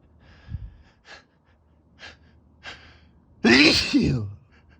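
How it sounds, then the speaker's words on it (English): A man with allergies takes several sharp breaths and sniffs, then lets out one loud, close sneeze followed by a shorter exhale. "I'm gonna sneeze again."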